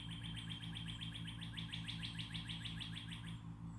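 Many birds chirp in rapid, repeated high trills along a woodland nature trail, a steady chorus close by and continuing throughout with a low background hum beneath.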